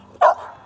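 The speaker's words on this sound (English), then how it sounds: "You got a new dog." A single short bark or yip from a small puppy, close by and moderately loud, with faint background noise before and after.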